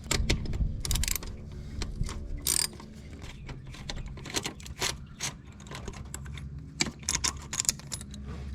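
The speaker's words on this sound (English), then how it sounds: "Now we're going to take this little 10mm bolt out." Socket ratchet work on a 10mm bolt in the engine bay of a 1994 Honda Accord during a thermostat replacement, with dense runs of close metallic clicking broken by a few sharper clanks, and no speech.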